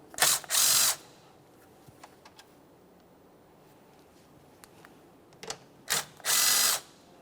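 Power ratchet removing 10mm bolts from the upper plastic panel of a 2014-2019 Toyota Corolla 1.8L, two short loud whirring bursts at the start and end with quiet workshop handling between.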